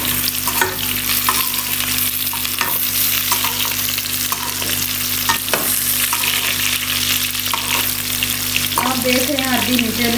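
Taro root (arbi) chunks fry in a pan with a steady, loud sizzle, broken by frequent scraping stirs and clinks, with no voices.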